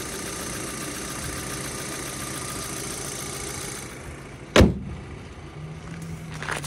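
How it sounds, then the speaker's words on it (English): A 2008 VW Passat Lux engine idles in a steady, low hum, then a single sharp thump sounds like a door closing before the idle carries on. "Motor runs well, clean, drives nice."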